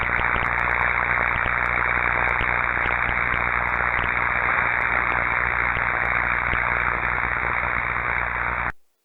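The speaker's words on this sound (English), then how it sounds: "So this is a sound of partial discharge." Partial discharge in electrical insulation picked up by acoustic detection comes through as a loud, steady hiss of dense static with faint crackling ticks, holding level for about nine seconds before cutting off.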